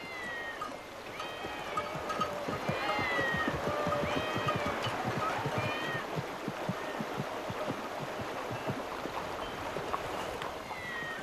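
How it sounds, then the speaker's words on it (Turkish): Several cats meow repeatedly in a temple devoted to cats, their overlapping cries rising and falling over a steady, busy background of rustling ambience, fairly close and clear with no talk. "Bunca kedi burada ne arıyor?"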